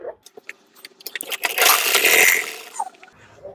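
Sewing machine topstitching the lining seam along the back neckline of a princess-cut blouse: a few sharp close clicks, then a loud continuous run of the machine for about a second that trails off into more handling noise.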